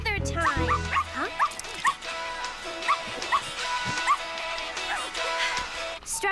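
Cartoon puppy barking and whimpering in short yips, fairly close and loud over a busy music background with a voice speaking.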